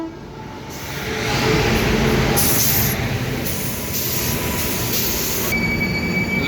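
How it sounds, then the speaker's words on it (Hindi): Train on an Indian railway rolling past at a crossing, a loud continuous rumble of wheels and carriages with high metallic squeal, close by and steady, with no talking. "अब दूर से नज़र आ रहा है ट्रेन आ रही है और क्रॉसिंग होने वाली है।"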